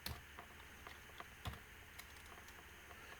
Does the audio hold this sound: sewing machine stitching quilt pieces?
no